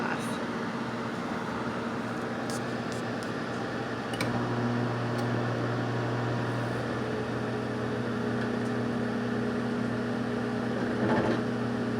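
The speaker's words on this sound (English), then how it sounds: "We have our popcorn turning in the microwave." Microwave oven running on its popcorn setting, a steady close hum with a constant low drone throughout, a shift in tone partway through and a few faint ticks and clicks on top.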